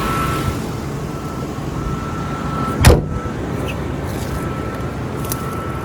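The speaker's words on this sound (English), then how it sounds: "Let's go ahead and drop the hood here" A project car's hood dropped shut outdoors, one sharp, loud slam standing out against a steady low rumble of traffic, with faint distant vehicle sounds around it.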